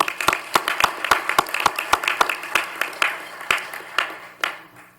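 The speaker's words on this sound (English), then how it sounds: "So if we give them a round of applause, please" Sparse, distinct handclaps from a small audience honoring high school students at a Kiwanis gathering, sharp individual claps in an uneven rhythm that thin out toward the end.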